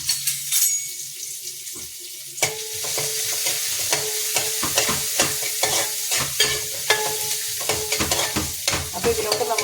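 Chopped garlic and ginger fry in a pan with a constant hissing sizzle, while a utensil stirs and scrapes against the pan in quick, frequent strokes, heard close with no voices.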